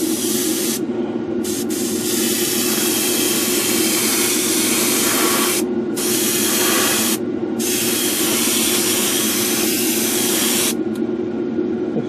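A spray gun lays down a wet coat of paint on a group-build model, a loud continuous hissing spray broken by a few short pauses.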